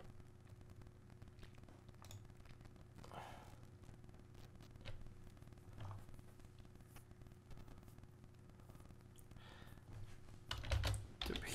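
Typing on a computer keyboard while writing code, quiet scattered keystrokes with a soft background hum, brief bursts of clicks and a louder cluster near the end, with a voice talking at times.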